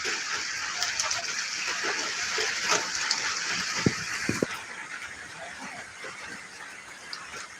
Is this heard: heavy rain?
yes